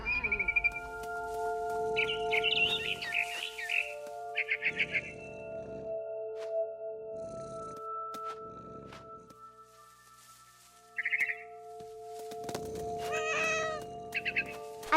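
A cat meows in the video game What Remains of Edith Finch, several short mewing calls spread across a quiet scene with a steady ambient music bed and occasional bird chirps.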